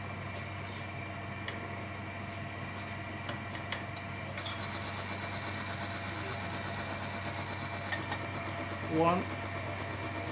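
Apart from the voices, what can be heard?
Polytron-treated engine running with water mixed into oil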